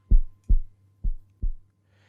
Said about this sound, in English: He is listening to his friend's heartbeat.